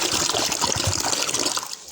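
Still water poured steadily into a mixture for homemade plain yogurt, a continuous close trickle and splash that eases off near the end.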